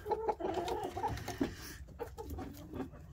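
Chickens cluck steadily inside a backyard coop bedded with wood shavings, the close, continuous hen chatter filling the whole short stretch with no talk over it.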